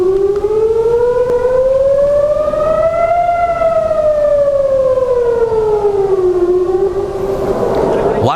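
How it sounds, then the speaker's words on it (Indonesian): A civil defense air raid siren wails over Tel Aviv during an Iranian air strike, one loud, sustained tone rising and falling slowly and heard alone. "Warga Israel ketakutan saat sirine meraung di udara."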